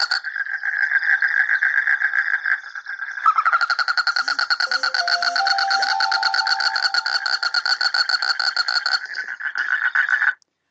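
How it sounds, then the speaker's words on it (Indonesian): A frog recorded calling in a long, continuous pulsing croak that carries on nearly without a break for about ten seconds, loud and close, with a brief low warble mixed in partway through and no voices. "seorang peneliti nantinya akan merekam suara kodok pada waktu malam dan waktu siang dan dibandingkan"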